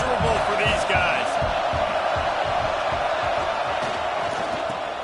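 Stadium crowd at a college football game, a loud continuous roar of many voices with steady broadband din, rhythmic thumps and scattered whoops and cheers throughout, under a game announcer's ongoing commentary.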